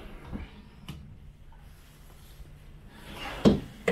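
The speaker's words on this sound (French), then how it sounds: "Juste ici, on a 2 grands tiroirs." Large drawers in a 2021 Grand Design Transcend Xplor 240ML travel trailer sliding open and shut, a few soft knocks and rolling scrapes spread across a quiet interior, with one louder clunk near the end.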